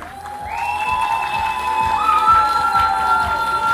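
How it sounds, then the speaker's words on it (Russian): An audience claps and cheers at a student beauty pageant, a steady wash of applause running beneath loud stage music with sustained tones and a regular thumping beat. "Друзья, аплодисменты."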